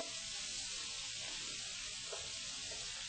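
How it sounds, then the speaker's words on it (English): Chorizo sautéing in a pan for paella gives a steady, quiet, even sizzle with a broad hiss that runs unbroken throughout and has no talk over it. "And then we'll just throw in the chorizo. And I'm going to saute this till I have a nice color"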